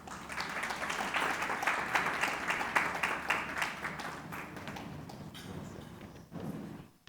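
Audience applause welcoming a KPMG Chile senior partner onto the stage at a business conference, a dense steady clapping that holds strong for several seconds and then thins out and fades.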